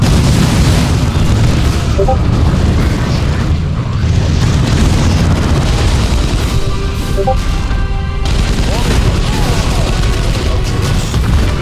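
Continuous heavy weapons fire and deep explosions from orcs fill a Dawn of War II battlefield, loud and close, with the roar swelling and easing slightly but never stopping.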